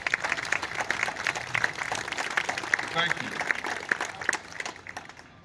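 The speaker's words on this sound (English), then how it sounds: "give you a round of applause" Crowd applause at a Houston County gathering for county and city officials, a steady patter of many hands that fades near the end, with a brief voice coming in over it.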